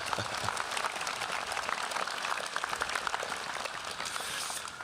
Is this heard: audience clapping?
yes